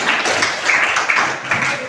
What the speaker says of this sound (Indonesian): Tepuk tangan untuk kelas ini.